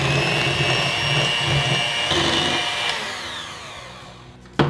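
Electric hand mixer beaters whirring steadily through a dessert pizza mixture until smooth, a continuous close motor drone that tapers off near the end with a brief clunk.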